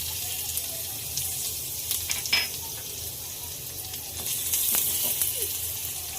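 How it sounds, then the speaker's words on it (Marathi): Crushed garlic goes into heated oil for a shegla (drumstick leaf) vegetable dish. It gives a steady, close hissing sizzle with a few soft stirring scrapes. "तेल आपलं तापलेलं आहे आता आपण ह्यामध्ये ठेचलेलं लसूण टाकूया"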